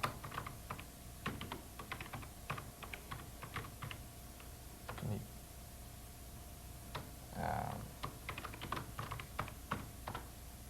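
Continuous typing on a computer keyboard while composing a message on a 1995 BBS, with quick irregular keystroke bursts, a few brief pauses and heavier thumps, close and fairly quiet, no talking.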